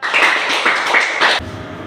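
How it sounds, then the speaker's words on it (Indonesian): Applause for a singer after a solemn song at a staged Youth Pledge congress in a school short film, a dense burst of clapping from a small crowd lasting over a second before cutting off. "Sekali lagi beri tepuk tangan kepada beliau"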